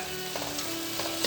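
Sweet peppers stirred in a hot frying pan for a homemade couscous sauce, a steady close sizzle with soft scraping strokes of the spoon around the pan.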